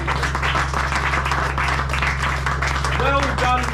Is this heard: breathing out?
no